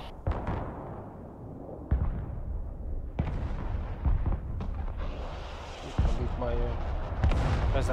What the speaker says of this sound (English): Right, my HIMARS are shooting now.